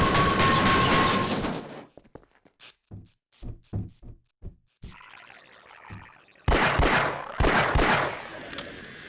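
Gunfire in Half-Life Source: a loud burst of rapid fire opens, then a string of separate sharp single shots with quiet gaps, followed by more dense, loud bursts of shooting and impacts.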